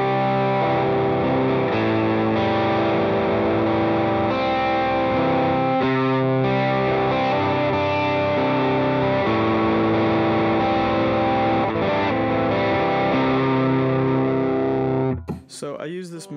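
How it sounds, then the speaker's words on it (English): An electric guitar played through a Rat distortion pedal rings out with sustained, heavily overdriven chords and notes for about fifteen seconds, loud and close, before cutting off abruptly. "Next, we have my Rat Distortion."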